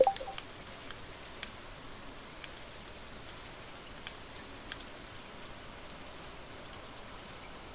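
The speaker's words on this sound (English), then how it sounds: "Is it raining? It's raining." Steady light rain in Stardew Valley patters continuously, with occasional sharper drops ticking on a surface; no voices.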